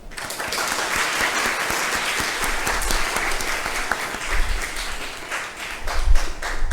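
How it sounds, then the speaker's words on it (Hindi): Students at an ICAP revision session give the teacher a round of applause, a steady, moderately dense clapping with a few louder close claps and low thumps toward the end. "सर के लिए भरपूर तालियां"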